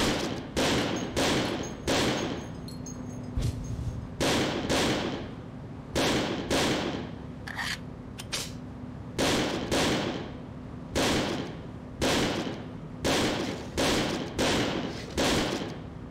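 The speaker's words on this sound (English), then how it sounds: "Here, take this ammo and fire it all into the range." Single gunshots at a shooting range in the game Second Sight, sharp loud cracks spaced about one second apart in small groups with short pauses, no talking.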